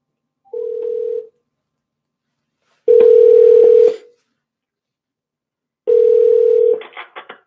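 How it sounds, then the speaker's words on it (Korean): A telephone line tone sounds while a call is placed from a broadcast studio, three clean steady beeps separated by silence, the last followed by brief clicky dialing tones. "선생님 그럼 바로 전화 드려볼까요?"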